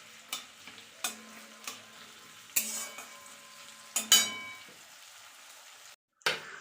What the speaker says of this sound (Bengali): এবারে আমি পেঁয়াজটা এরকম ভেজে নেব লাল করে।